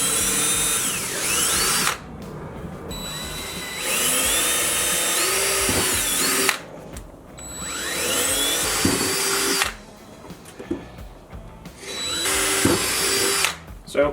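A power drill bores a hole through a Harley-Davidson tour pack in three loud, sustained bursts of whining, grinding drilling, separated by short pauses.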